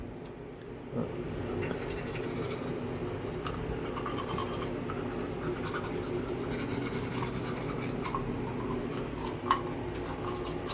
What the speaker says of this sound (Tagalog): Ganyan mag-toothbrush.